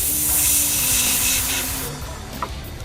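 An airbrush sprays thinned house paint in a strong, close hiss that holds steady, then eases off and sputters briefly near the end.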